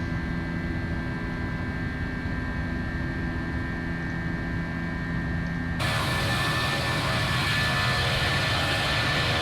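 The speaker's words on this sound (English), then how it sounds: "that's fun to make engines roar like that" Jet engines on an FSLabs A321 in the Prepar3D flight simulator hold a steady hum and then surge abruptly into a loud, broad roar about two-thirds of the way through, with no talk over it.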